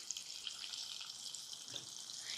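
Bitter gourd pieces drop into a hot oil pan and fry with a steady, close hissing sizzle, broken by a soft thump partway through.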